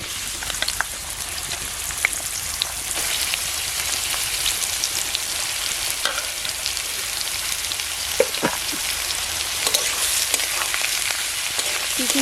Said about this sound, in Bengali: কড়াই গরম হয়ে গেছে, সরষের তেল দিয়ে আমি এই চিচিঙ্গাটা ভেজে নেব।